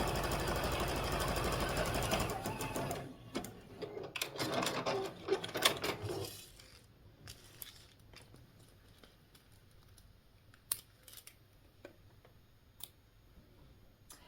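A sewing machine stitches a decorative stitch onto pink ribbon on a vintage quilt Christmas stocking, running loudly for a few seconds with a rhythmic ticking, then stopping and giving way to faint handling clicks.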